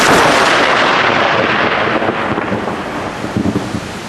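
Thunder from a lightning strike, a loud, dense rumble that fills the whole stretch without pause and eases slightly toward the end, with no voices.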